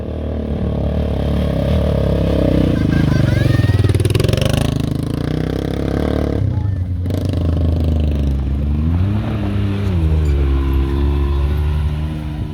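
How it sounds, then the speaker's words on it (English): Dirt bikes riding a mountain trail near 5 Mile Pass, engines droning and rising in pitch as they pass close by, with a rough, rattly drone and brief dips in between. "Listen to the dirt bikes, they sound freaking sweet."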